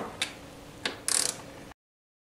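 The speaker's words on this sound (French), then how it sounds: "vous pouvez donc desserrer les 4 écrous de fixation de votre culasse" Sharp ratchet clicks while loosening the four cylinder head nuts on a Nitro/Aerox scooter, two single clicks followed by a brief rapid burst of ratcheting, close and alone.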